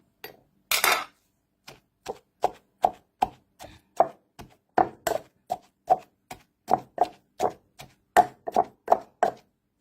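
Boiled eggplant is pounded in a mortar with a pestle in a steady run of about twenty dull, evenly spaced thuds, close and clear.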